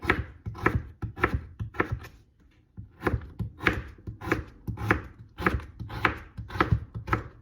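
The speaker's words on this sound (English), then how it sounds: "So we are just dicing these up." A kitchen knife dices potatoes for a meat and potato casserole, striking the board in quick, steady bursts of close chops with a brief pause partway through.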